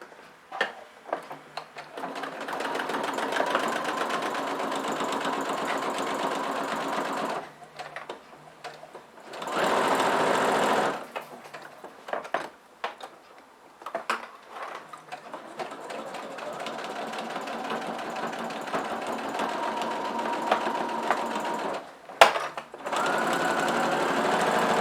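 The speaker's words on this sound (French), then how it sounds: "je vais coudre seulement cette partie-là, seulement le tissu extérieur à 1 cm du bord," Domestic sewing machine running a straight stitch through the outer fabric of a small pyramid-shaped pouch, 1 cm from the edge, in steady whirring bursts separated by brief pauses, close and fairly quiet with no talk.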